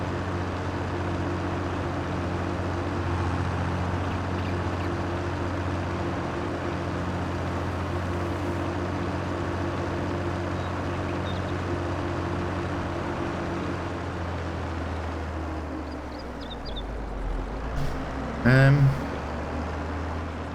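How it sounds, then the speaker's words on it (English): A farm tractor with plenty of power hauls a new bale trailer, its steady low engine drone running close and loud throughout, with a brief clunk and hiss near the end; someone speaks over it. "I'm really liking this tractor. It's got plenty of power, plenty of grunt."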